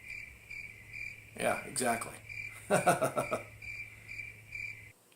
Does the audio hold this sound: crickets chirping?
yes